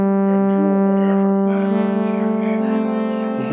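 A sustained granular synth tone from the FRMS patch with its reverb switched off, with a steady droning pitch whose upper harmonics shift and waver as it pans, loud and alone.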